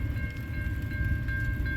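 A southbound CN freight train led by Dash 9 locomotive 3302 rolls past at Ladysmith, Wisconsin, a loud, steady rumble of wheels and engines with a sustained tonal whine on top, close by and continuous.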